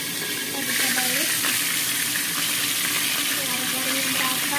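Chicken fries in oil in a covered pan, giving a steady, dense sizzle at close range that runs unbroken throughout.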